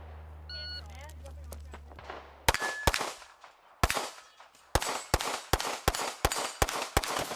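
Rifle shots at a shooting competition stage, a run of sharp loud cracks fired in quick succession, roughly evenly spaced, after a faint beeping start signal and background hum.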